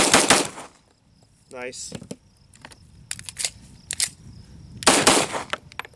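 Pistol shots from a Beretta 92A1 and a 1911 during an outdoor range reliability test, several loud sharp reports spread unevenly across the clip with metallic clicks between them and a brief spoken word.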